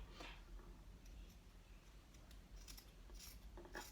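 Scissors cut through a T-shirt being made into a reusable grocery bag, heard as faint, quiet snips in a few uneven clusters over low background hiss.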